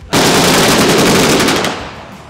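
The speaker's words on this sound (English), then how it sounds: "which means full automatic fire" Full automatic machine gun fire rips out as one loud, continuous burst of rapid shots lasting nearly two seconds before fading, with no talk.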